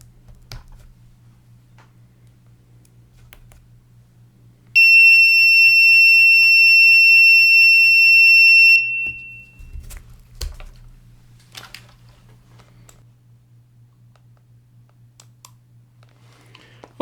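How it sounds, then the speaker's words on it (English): A loud, shrill buzzer alarm, looping with a 100-millisecond delay, buzzes continuously for about four seconds amid a quiet background hum and scattered faint clicks. "this is the sound generated by the alarm using the loop with 100 milliseconds delay"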